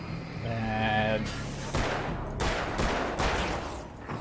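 Gunfire in the video game Alan Wake's American Nightmare comes as several loud, heavy blasts, each followed by a decaying tail. The shots arrive at uneven intervals after a short tonal sound at the start.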